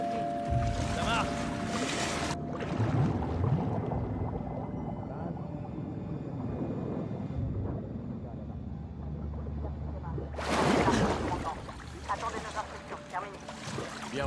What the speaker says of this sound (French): Le moteur est reparti.